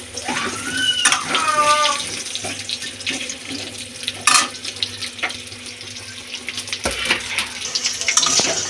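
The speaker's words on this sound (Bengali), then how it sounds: "ওই তেলের মধ্যে আমরা আলু ভেজে নেব।" Long, thin-cut potato strips fry in hot oil with a steady, hissing sizzle throughout, broken by a few sharp utensil clinks, while a voice talks briefly near the start.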